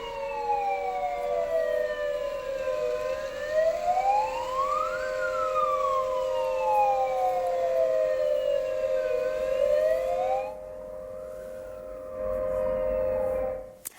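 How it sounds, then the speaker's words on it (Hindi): Siren sounded at the Supreme Court as a tribute to victims of the Pahalgam attack, a loud rising and falling wail that sweeps up and down steadily, then cuts off abruptly near the end before briefly returning. "किस तरह से सायरन बजाकर श्रद्धांजलि दी गई है"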